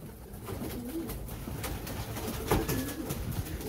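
Pigeons coo softly and repeatedly in a loft, low rounded calls over a steady background hiss with occasional rustling.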